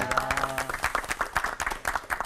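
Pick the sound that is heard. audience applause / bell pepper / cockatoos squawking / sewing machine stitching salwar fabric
audience applause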